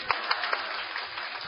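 A church congregation clapping together, a dense steady patter of many hands with a few sharper peaks, moderately close and filling the whole stretch without speech.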